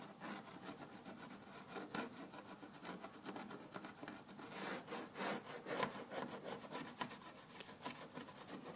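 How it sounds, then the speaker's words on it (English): Fingernails scratch adhesive residue off an ATV body treated with Goo Gone, producing a faint, repeated rasping rub in quick uneven strokes, close and quiet. "just take your fingernails and start scratching it off"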